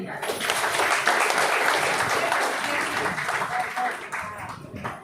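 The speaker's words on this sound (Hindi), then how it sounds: "ताली बजाओ भाई।" Audience applause at a Hindi spiritual gathering, a dense burst of many hands clapping together that swells loudly, holds steady for several seconds, then thins out near the end.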